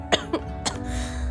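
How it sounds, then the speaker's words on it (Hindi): A girl gives three quick coughs, close and fairly loud, over a faint steady background hum, with no talk. "इतनी खांसी क्यों आ रही है?"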